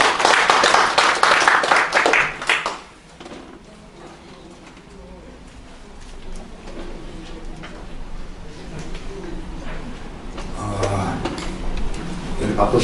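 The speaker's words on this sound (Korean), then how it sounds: "박수 부탁드립니다." An audience at a Korean policy forum held with the Economic, Social and Labor Council gives a short burst of dense clapping that fades out within about three seconds, leaving a quiet hall with faint murmuring and later a voice speaking.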